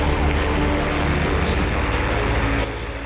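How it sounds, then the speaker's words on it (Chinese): A helicopter from Keelung flying across the northern Taiwan sky toward Tri-Service General Hospital in Neihu, a loud steady rotor and engine drone throughout, easing slightly near the end with no talking. "来自基隆的直升机划破北台湾天际线，降落在内湖三总"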